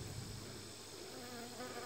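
Dense, steady buzzing of many honey bees crowding around a dark black queen inside a hive, a continuous close drone with no voices.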